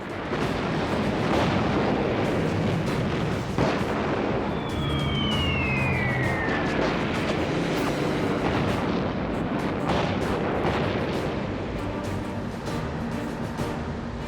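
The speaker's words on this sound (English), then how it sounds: "Cartwheel begins with intense aerial bombardment and shelling" Intense aerial bombardment and shelling in a World War II Pacific campaign, heard as a dense, continuous roar of booming explosions and artillery blasts, with a descending whistle of an incoming shell or diving aircraft partway through.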